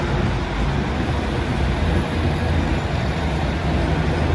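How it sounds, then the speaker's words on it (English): A Wigan-bound train pulling out of a station platform, a continuous low rumble and rolling noise that holds steady and fairly close, with no voices over it. "The Wigan train's just leaving."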